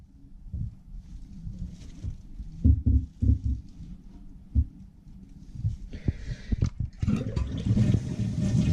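Water draining out of a toilet tank after the supply valve is shut off, heard as low gurgling, sloshing flow with knocks and thumps, swelling into a steadier rushing drain toward the end.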